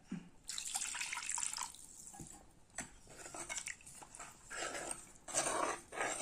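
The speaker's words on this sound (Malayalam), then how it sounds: "ആവശ്യത്തിനനുസരിച്ച് വെള്ളം ഒഴിക്കുക" Water poured into fish curry gravy in a kitchen pan, heard as splashing and trickling mixed with clinking of utensils and dishes, fairly close and continuous with no talking.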